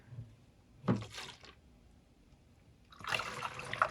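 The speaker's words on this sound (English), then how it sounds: "And you just pour it in" Liquid pours through a funnel into a Swiffer refill in two short, quiet bursts of trickling and splashing separated by a pause.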